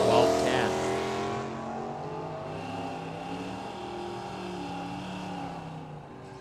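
Drag racing car, a 1966 Chevelle among them, on the strip: a loud engine roar at the start easing into a sustained, fading drone with a steady pitch, heard from trackside with no clear talk.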